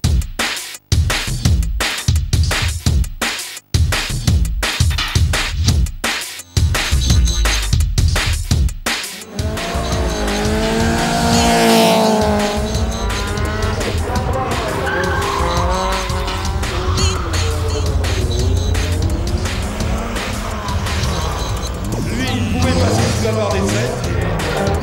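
Tuned cars make runs on a specially prepared section of a circuit at a tuning meet, with bursts of revving and sharp tire squeals giving way to a long, wavering screech of skidding tires over crowd noise.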